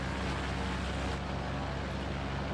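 A Mooney aircraft engine in a flight simulator, sounding like a Seminole, heard as a steady, loud, low droning hum with a constant pitched tone and no talk.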